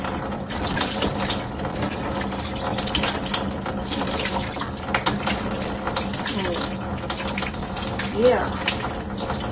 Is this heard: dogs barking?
no